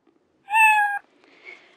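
A kitten gives a single clear, high meow lasting about half a second, followed by a faint softer trailing sound, with no other noise around it.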